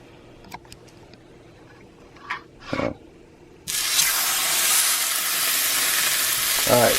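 Steak sears in a cast iron skillet, a loud continuous sizzle that bursts in suddenly after a few soft handling clicks and a brief rustle, then holds steady and close.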